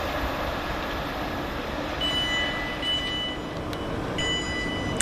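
A Class 444 train speeds through Surbiton station, a steady loud roar of rushing wheels and air, with faint high electrical tones and brief beeps sounding over it, no talk.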